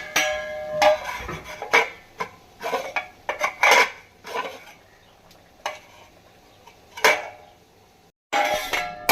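A lid is set on a pot of chicken curry cooking over a medium flame, among a series of close metallic clanks and scrapes, spaced irregularly, with quiet pauses between them.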